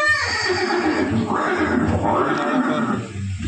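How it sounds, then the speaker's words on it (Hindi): Horse representing Maharana Pratap's famed steed Chetak lets out a long, loud whinny that rises and trembles, followed by a second neigh, close and strong, with a voice present in the mix. "ये दृश्य महाराणा प्रताप और सुविख्यात स्वामी भक्त घोड़े चेतक के अंतिम मिलन का ह"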